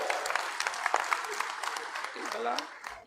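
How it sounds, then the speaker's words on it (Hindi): Applause from a crowd greets former Haryana Chief Minister Bhupinder Singh Hooda at a public rally in Matlauda. It runs steadily for about three seconds and fades at the end, with an announcer's voice audible underneath. "जोरदार तालियों से स्वागत किया जाए।"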